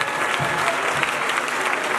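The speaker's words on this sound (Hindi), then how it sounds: "एक बार दोनों हाथों की तालियों से आशीर्वाद दीजिए।" Audience at a devotional jagran clapping with both hands, a steady dense wash of applause held at even loudness throughout.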